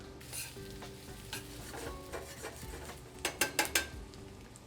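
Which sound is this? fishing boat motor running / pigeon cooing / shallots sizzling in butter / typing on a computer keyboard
shallots sizzling in butter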